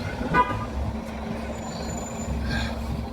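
City buses pass on a street with traffic rumble, a brief horn toot near the start and an air-brake hiss later, heard at moderate distance.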